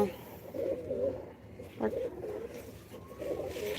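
Pigeons coo on a rooftop in several soft, rounded calls, fairly close and moderate in level, against a low background murmur.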